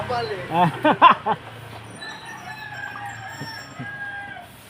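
A chicken clucks and crows in short bursts near the start, followed by quieter background noise with faint distant sounds.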